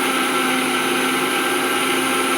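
A blender grinds roasted tomato, green chilli and ginger into a paste for masala paneer, giving a loud, steady, unbroken whirring roar throughout, with no voices.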